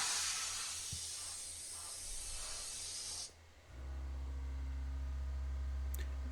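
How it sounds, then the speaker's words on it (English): CNC mill facing off a Pierson mini pallet, a steady loud hissing cut that stops abruptly, giving way to a lower constant machine hum with faint tones. "As always, I start by facing off the pallet"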